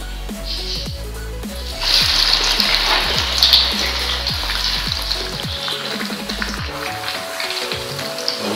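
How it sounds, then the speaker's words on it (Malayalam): Beef cutlets deep frying in hot oil, a dense steady crackle and sizzle that grows busier and louder partway through, with no voices over it. "മുക്കി വറുക്കാൻ പോകുന്നത്"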